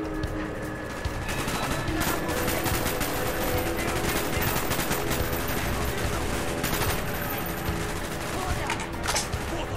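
Rapid automatic gunfire in the video game Call of Duty Black Ops, dense sustained bursts rattling without pause from start to finish, loud and close.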